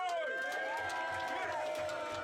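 A loud crowd at a Don't Flop rap battle event in Bristol cheers and whoops continuously, a dense, sustained roar of many voices with shouts rising above it.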